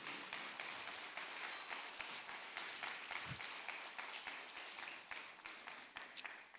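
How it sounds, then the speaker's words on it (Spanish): A church audience applauds at a MegaFest event, sustained dense clapping from many hands, fairly faint and even, with no clear speech. "Un aplauso fuerte para el Dios Todopoderoso."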